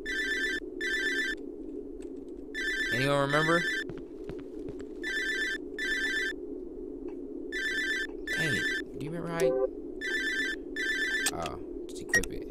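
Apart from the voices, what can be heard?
telephone ringing in the Cry of Fear video game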